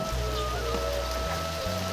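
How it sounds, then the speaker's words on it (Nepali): Rain pouring down on surfaces near Tashiding Monastery, a dense continuous patter at close range that stays steady throughout, with no one speaking. "पानी पर्न थाल्यो पुरा पानी पर्न थाल्यो"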